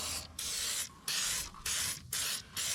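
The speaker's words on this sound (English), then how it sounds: "spray that chain down." An aerosol can sprays lubricant onto a hay baler chain in about six quick, loud hissing bursts with brief pauses between them, close to the microphone.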